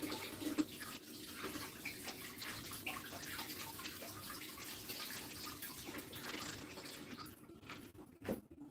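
Water runs from a tap while aloe vera is washed, a soft continuous splashing stream with small irregular drips and clatters, faint and fairly close, with no talk.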